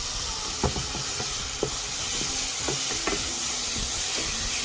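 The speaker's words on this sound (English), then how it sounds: "Okay, now we're gonna be adding tomatoes. Straight up, cook for 2 minutes." Tomatoes sizzle in a hot pan for moong dal soup, a steady frying hiss broken by soft scraping stirs and occasional clacks of a utensil, close and fairly quiet.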